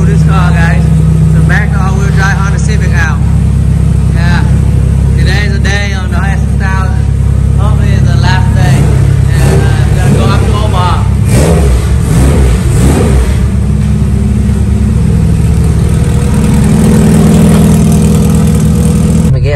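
A turbocharged Honda S2000 engine runs loud and close at a dyno session, holding a steady drone with some rising revs. People talk over it throughout.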